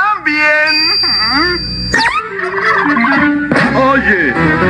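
A cartoon turkey gobbles loudly in warbling, wavering bursts, one near the start and again around the middle and end, with a character's voice talking between and over the calls.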